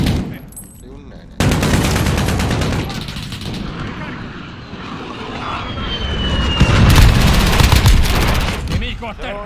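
Gunfire in a shooter video game: dense, sustained bursts of rapid shots and heavy blasts fill most of the clip, loud and close, with game voices and radio chatter mixed in.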